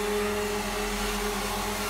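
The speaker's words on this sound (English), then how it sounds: "you can speed up the process using a hairdryer" A hairdryer blows over watercolour paper, a steady whirring hum with a constant tone, fairly faint and unbroken, with no voices.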